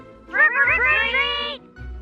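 A single drawn-out cat meow, close and clear, rising then falling over about a second.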